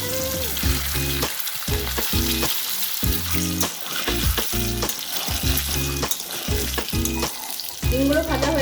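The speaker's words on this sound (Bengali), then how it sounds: "এরপর আমি এর মধ্যে ডিমগুলো দিয়ে ভেজে নেব।" Eggs fry in hot oil seasoned with salt and a little turmeric in a wok, giving a loud, close, continuous sizzle and crackle alongside a rhythmic musical background.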